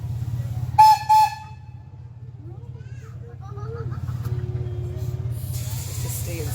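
Two short whistle blasts ring out near the start from the Stanley Park Railway train in Vancouver, over a steady low rumble of the moving train. Faint voices and scattered higher sounds follow.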